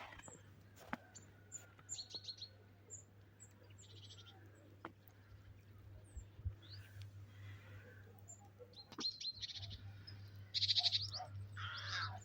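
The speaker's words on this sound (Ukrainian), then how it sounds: "Так гарно птички співають, вам чутні." Small birds chirp and sing in snowy winter trees: scattered bright calls and short twittering bursts, denser near the end, over a constant low hum.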